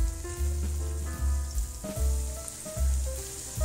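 Onion with ginger garlic paste frying in a pan, a steady dense sizzle with occasional stirring scrapes, close and continuous with no talk.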